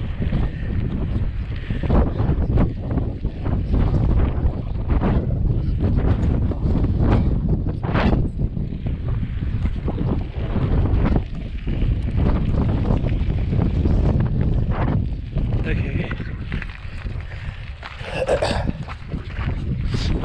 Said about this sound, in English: I'm tired of pedaling against the wind.